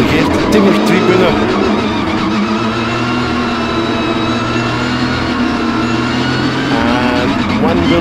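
Porsche Cup race cars roar back to full throttle on the restart after a safety car period at TT Assen, a dense, loud wall of engine noise with a commentator talking over it.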